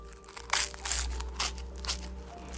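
Homemade crispy börek is bitten into and chewed up close, giving several sharp crackling crunches in quick succession, loud against a quiet background.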